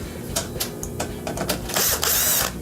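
Screws are backed out of a fan bracket inside a Whirlpool oven with dual-speed blower, giving brief close mechanical clicks and ticks and a short burst of driver whirring, with no talking.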